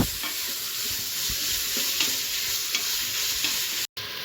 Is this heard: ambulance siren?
no